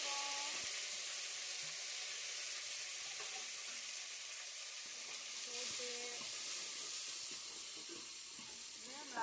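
Onions and green chilies fry with a steady sizzle in a pan for a South Indian black-eyed pea tamarin curry, with scattered scrapes and clicks of stirring throughout and faint background sounds.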